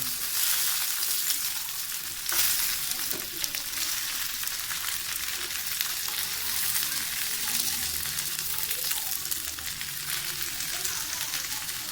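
Qeema-stuffed karela (bitter gourd) lightly frying in a pan gives a steady, close hiss and crackle that runs unbroken throughout, with no talking.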